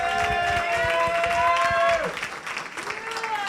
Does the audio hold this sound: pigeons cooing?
no